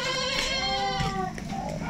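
Goats, Boer and Etawa breeds being loaded for shipping, bleat loudly and close by. Several wavering cries overlap with no break, over a steady background hum.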